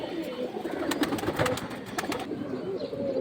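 Pigeons at a bird market, including colored fancy breeds and racers, coo and flutter in a busy, close cluster, soft repeated coos over a rustle of wings and ambient crowd murmur.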